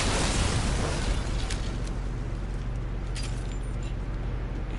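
Shotgun blasts fired in the Resident Evil Village video game, a loud broadband boom at the start trailing into a sustained low rumble, with a few faint sharp cracks later.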